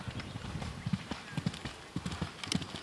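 Hooves of a dark brown horse clip-clop at the start of a horse trials course, a steady run of dull thuds at moderate distance with faint voices in the background.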